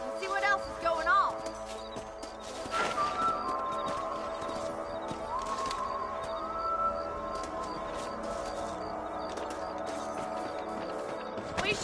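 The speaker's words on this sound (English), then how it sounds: "Let's get back on the horses and see what else is going on." Horses trot through an open landscape in Red Dead Redemption 2, a steady clip-clop of hooves running under game music, ambient tones and characters' dialogue.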